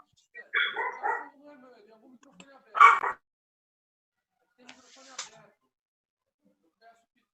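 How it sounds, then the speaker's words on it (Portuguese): A dog barks a few times in short bursts, fairly close, with quiet gaps between; a brief yelp-like sound follows later. "Estou ouvindo um cachorro latir aí"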